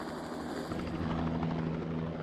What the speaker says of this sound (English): reseeding them with a helicopter